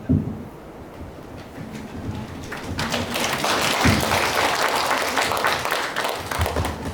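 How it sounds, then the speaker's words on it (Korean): Audience applause after a lecture at a library author talk, starting faint and swelling into sustained loud clapping from many hands that holds steady to the end. "다시 한번 뜨거운 박수 부탁드리겠습니다."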